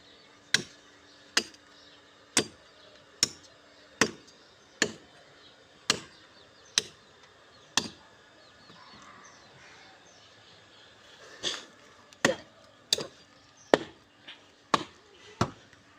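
Sharp blade chops strike in steady rhythm outdoors in a village yard, about a dozen loud, close hits with a pause midway, birds faintly calling in the background.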